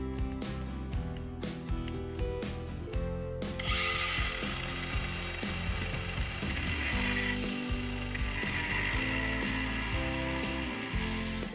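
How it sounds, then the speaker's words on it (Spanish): Angle grinder cutting a slot into the head of a stripped screw, a steady loud high-pitched grinding whine that starts a few seconds in after some clicking mechanical noise and runs continuously to the end. "Cogemos una radial y le hacemos una rayita en el medio."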